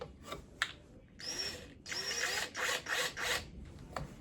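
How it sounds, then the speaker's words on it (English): Several short bursts of a power drill whir and bite into wood, spaced by brief pauses, close up and fairly quiet, drilling a pilot hole for a guitar truss rod; no speech. "So I'm going to drill down first of all,"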